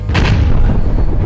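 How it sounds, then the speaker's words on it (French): A sharp, booming explosion effect follows the mixing of chemicals. It is a single loud, close blast with a brief rumbling tail, heard on its own without speech. "les explosions, t'en veux? Hop, l'explosion."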